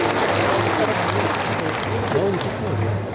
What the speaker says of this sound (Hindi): आप सब लोगों से मैं आग्रह करूंगा कि जोरदार तालियों के साथ में गडकरी साहब को